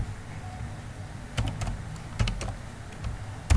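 Computer keyboard keys tapped in short irregular bursts while entering plotting code in Octave, close and crisp clicks over a quiet room hum.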